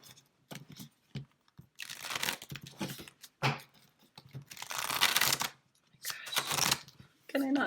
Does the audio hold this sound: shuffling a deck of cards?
yes